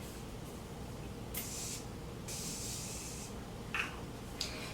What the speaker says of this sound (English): Last step, my Morphe matte spray.